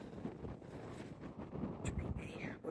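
Strong wind buffets the microphone on a high mountain top in Anglesey, Wales, a steady low roaring rush that gusts harder toward the end, with faint voices mixed in.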